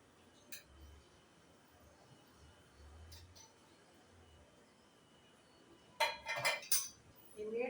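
Cutlet ingredients, including potato, being mixed in a bowl. Quiet, sparse handling sounds give way near the end to a few sharp metallic clinks of a spoon against the bowl.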